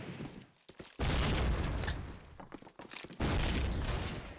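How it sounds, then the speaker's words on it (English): Grenade explosions in the video game Call of Duty: United Offensive, two heavy booming blasts with rumbling tails separated by a short gap, loud and close, with gunfire between. "Some heavy nades"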